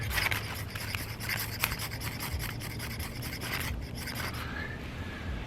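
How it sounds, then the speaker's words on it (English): A blade repeatedly scrapes shavings off a foldable magnesium flint rod, making a continuous close, gritty rasping with rhythmic strokes for several seconds. "So I'm gonna scrape off a bunch of magnesium."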